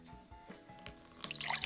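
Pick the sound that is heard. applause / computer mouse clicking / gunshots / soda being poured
soda being poured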